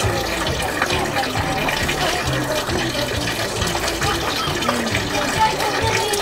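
Spring water pours and splashes steadily at a village water source, a continuous close gushing, with some speech-like sound mixed in.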